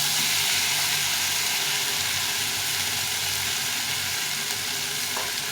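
Ground ginger, cumin and red and green chili paste frying in a pan, producing a loud, dense, unbroken sizzle close up, with no voices.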